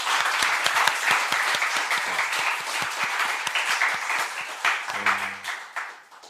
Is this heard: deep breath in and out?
no